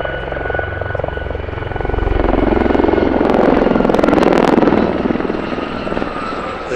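Gazelle helicopters fly past at the Midlands Air Festival with a loud, rhythmic rotor chop and engine whine that swells to a peak mid-pass and then fades slightly.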